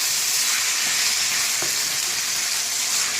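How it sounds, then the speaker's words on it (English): Water hitting a hot pan of spices and vegetables gives a loud, steady hiss and sizzle that holds evenly from start to end, close up and unbroken. "I'm going to add a little bit of water. What that'll do is it'll get rid of the baking on the bottom"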